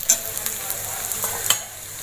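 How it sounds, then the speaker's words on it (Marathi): Onions being sautéed and stirred in a pan with a soft, steady sizzle, broken by a few light scraping stirs of the spoon, heard close and alone. "हे बघा छान आपला मऊ झालाय कांदा, थोडासा गुलाबी झालाय परतून।"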